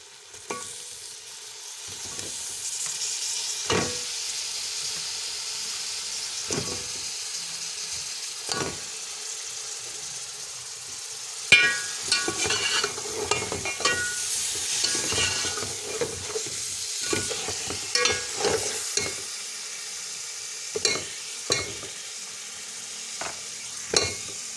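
Fish heads frying in masala and being stirred, with a continuous sizzle and scattered scrapes and clinks of the spoon against the pan, which grow busier partway through.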